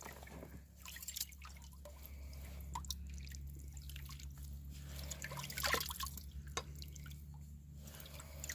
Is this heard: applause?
no